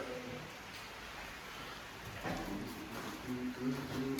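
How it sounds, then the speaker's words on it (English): Heavy rain pours down outdoors, a steady dense hiss of drops throughout that swells slightly louder toward the end, with faint tonal sounds briefly surfacing under it. "the heavens have opened and it is absolutely pissing down with rain"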